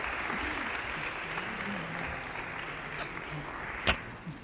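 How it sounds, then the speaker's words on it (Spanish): Audience applause for two performers called to the stage at a Spanish-language live session, steady dense clapping through the whole stretch with a faint voice underneath and a brief louder clap burst near the end. "Un aplauso para ellos."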